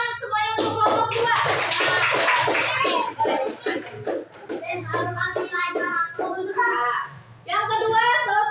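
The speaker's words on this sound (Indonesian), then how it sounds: "boleh tepuk tangan semuanya untuk kelompok 2" Students in a classroom clap for a presenting student group, scattered hand claps mixed with lively children's voices and chatter, the clapping fading in and out amid the talk.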